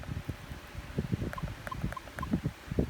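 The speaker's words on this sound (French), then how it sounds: "là, il y a du vent" Gusty outdoor wind buffets the microphone in low, irregular rumbling bursts, with a few faint high chirps in the background.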